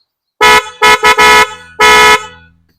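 A loud Honda 125 motorcycle horn honks in five bursts, a short toot, two quick blasts, then a longer held honk after a pause, close by with no talking.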